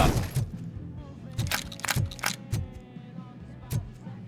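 Gunfire in the game RoboCop: Rogue City, a rapid series of sharp cracking shots spaced roughly half a second apart, loud and close, with a low rumble of combat underneath.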